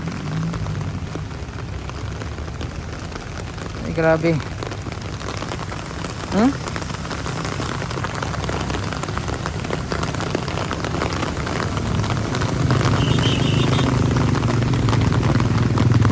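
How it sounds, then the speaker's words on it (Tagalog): Heavy rain pours steadily beside the flooded Marikina River during Typhoon Carina, a dense continuous hiss with a brief spoken exclamation and a few faint background sounds. "Wala pa rin patid yung buhos ng ulan dito."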